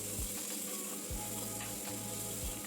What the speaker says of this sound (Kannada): ಗ್ಯಾಸನ್ನು ಸಣ್ಣ ಇಟ್ಕೊಂಡು ಇದನ್ನ ಹುರ್ಕೊಳ್ಳಿ.